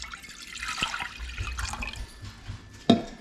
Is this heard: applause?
no